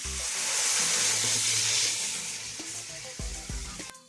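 A loud sizzle and hiss as wet ground beetroot paste for chutney hits a hot pan, easing off into softer bubbling with a few clinks of a utensil.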